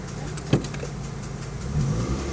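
A car engine hums steadily at low pitch, with a brief knock near the start and a slight swell in rumble toward the end.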